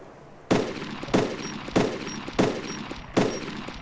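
Machine gun suppressive fire in the ARMA 2 video game, five evenly spaced sharp shots or short bursts roughly every half second, loud and up front with nothing else over them.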